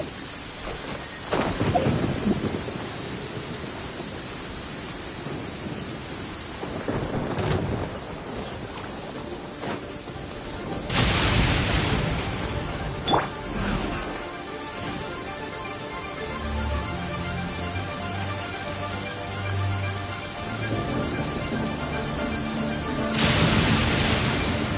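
A rainstorm in the video game Genshin Impact: steady rain hisses throughout while several loud thunder cracks and rolling booms break in, with a low melodic tone drifting in partway through.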